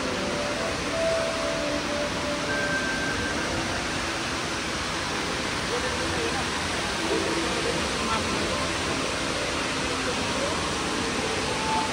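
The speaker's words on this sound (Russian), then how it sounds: "Вот они, водопады." Artificial indoor waterfalls inside Dubai Mall give a steady, even rushing hiss of falling water that fills the space, mixed with faint shopping-mall murmur and a few soft tonal sounds.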